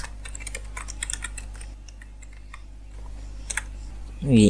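Fingers tap out bursts of quick clicking keystrokes on a computer keyboard, nearby and fairly soft. A short pause comes in the middle, then more typing, and a brief other noise closes the clip.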